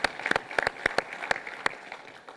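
An audience at a Red Cross heroes breakfast applauds: a thin round of scattered, distinct hand claps, moderately quiet and fairly near, trailing off toward the end.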